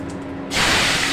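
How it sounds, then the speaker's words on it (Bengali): Cumin seeds and dried red chilies hit hot oil, a sudden loud burst of hissing sizzle breaking out of near silence about halfway through and holding steady to the end. "ফোড়নে জিরা দিয়ে দিলাম এখন মরিচ দিয়ে দিব শুকনো মরিচ"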